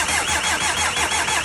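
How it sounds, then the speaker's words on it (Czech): A cold Škoda Octavia engine cranking and catching, a quick pulsing starter whirr with a steady rhythmic beat, loud and close, over a short burst. "Teď uvidíte, jak to studený hezky chytá, že to není vůbec žádný problém, s tím motorem nic není."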